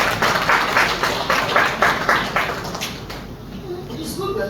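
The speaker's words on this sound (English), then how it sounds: "It's good we're clapping for him." Clapping from an audience at a professors' roundtable with a university vice-chancellor, steady applause for a couple of seconds that then fades out while voices carry on underneath.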